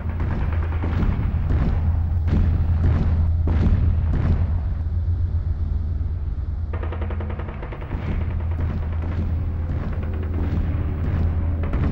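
Artillery cannon explosions and rapid gunfire during the Spanish Civil War siege of Toledo and the Alcázar, a dense run of loud booms and crackling shots over a continuous low rumble.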